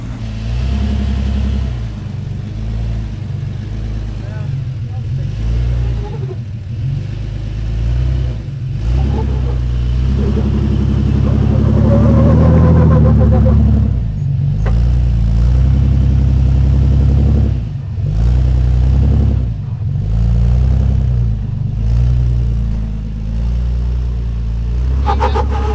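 An off-road vehicle's engine rumbles and revs in surges while it crawls over rough ground, loud and close for the whole stretch, with a few short voices over it.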